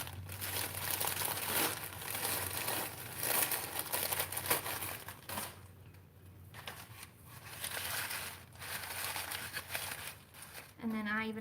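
A small paper bag crinkles and rustles as moss is stuffed into it, with crackling handling noises coming and going under someone talking close by.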